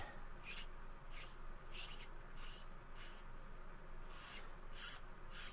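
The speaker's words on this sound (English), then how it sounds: "You can see what it ends up scraping off. It's just a fine scraping." A Penrounder hobby tool scrapes along a plastic edge in repeated short strokes, about eight quiet, dry rasps in an even rhythm, close up with no talking.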